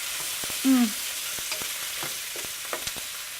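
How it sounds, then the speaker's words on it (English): Shakshuka vegetables frying in a pan are stirred, giving a steady soft sizzle with a few scraping strokes of the spoon and one brief louder scrape near the start. "We're going to stir it."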